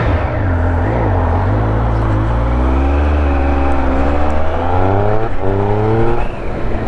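A Triumph Speed Triple RS 1200 naked motorcycle howls loudly at close range, its revs rising and dipping through gear changes with a continuous throaty engine note and no voices.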